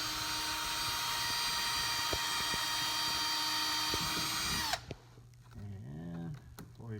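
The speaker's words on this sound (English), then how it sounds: "so we're just going to drill." A power drill whines loudly and steadily for several seconds drilling holes for an ATV seat install, then cuts off abruptly, leaving quieter handling noises and a brief low hum.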